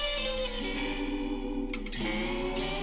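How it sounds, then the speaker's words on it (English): Reverb-soaked rock guitars, one panned hard left, ring in a studio mix, sustained chords blurring into a subtle ambient wash, steady and moderately loud with no talking. "So let me turn the reverbs on, you can kind of hear what's going on."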